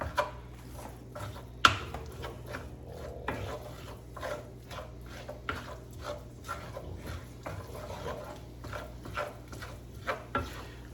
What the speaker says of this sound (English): Mix that in with those mushrooms.